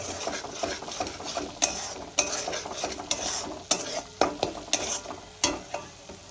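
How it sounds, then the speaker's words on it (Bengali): Spices frying in hot oil for a katla fish head and cabbage dish: a steady close sizzle broken by repeated sharp scrapes and clinks of a spatula stirring the pan. "মশলাগুলো দিয়ে একটু কষিয়ে নেব"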